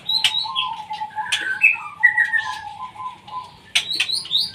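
White-rumped shama (murai batu) in a cage giving a run of clear, close whistled chirps and short warbled phrases, with brief pauses between bursts.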